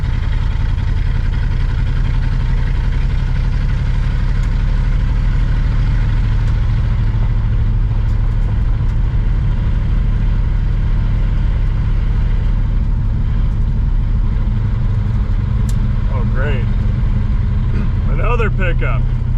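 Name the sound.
1970 Pontiac Grand Prix 4-speed engine driving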